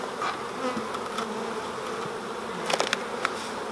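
Honey bees buzz steadily in a dense swarm, close by, as a nucleus colony is moved into a hive, with a few sharper clicks and knocks near the end.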